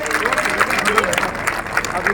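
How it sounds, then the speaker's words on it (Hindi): Crowd applause and clapping greet a cabinet minister arriving at a large public rally, a dense sustained roar of many hands mixed with murmuring voices throughout. "सभी तालियों की गड़गड़ाहट से मंत्री भवन जी का स्वागत करेंगे"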